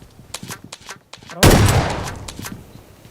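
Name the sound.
gunfire in a video game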